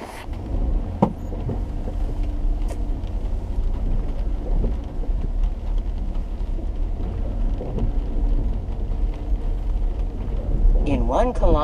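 Continuous rain patters steadily alongside a low rumble, heard while driving, with people talking over it throughout.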